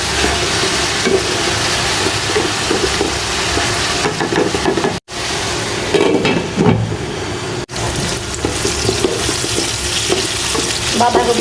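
Shredded cabbage stir-fried in a pan, a loud, close, continuous sizzle and scraping that runs the whole time, broken by two abrupt brief dropouts.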